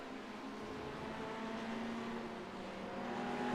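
Porsche race cars lapping Donington in a sim racing game, a steady, faint engine drone held at an even pitch, with no distinct passes.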